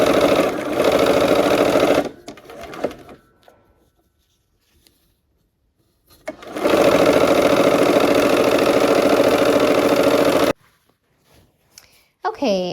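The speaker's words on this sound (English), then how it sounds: "We're gonna sew these down and I'm gonna try to match my ends up." A sewing machine stitches quilt block pieces for a Christmas quilt, running in two steady, loud bursts of a few seconds each, separated by a quiet pause, with a brief voice at the very end.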